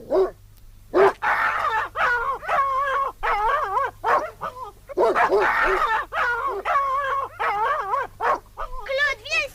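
Several fierce dogs bark and yelp in an outdoor winter scene while someone shouts at them over the noise, the barks coming in loud, close bursts mixed with frightened speech.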